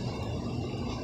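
Four twinned Linux furnaces running full bore in a basement make a dense, steady broadband roar with a low rumble, loud and unbroken throughout.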